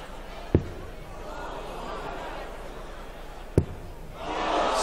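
Crowd noise at a UK Open darts match, a low murmur of spectators broken by two sharp thuds and swelling into louder cheering at the end.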